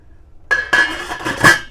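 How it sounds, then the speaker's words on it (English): Tomato seeds tipped from a container into a pot of Moroccan harira soup, a few quick clinks and knocks against the rim, close and fairly loud, in short bursts over a second. "So I'm going to just tip these in the soup"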